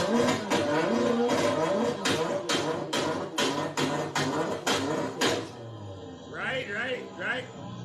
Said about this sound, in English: You ever hear one of these cars, you know, rev it, you know, you hear all this noise being made and the car is not going anywhere.